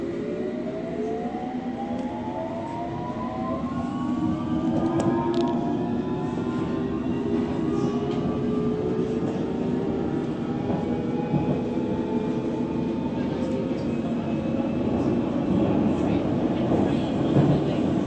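A London Underground Hammersmith & City line train runs steadily toward Barking, its motor whine rising and falling over a constant loud rumble of wheels on track.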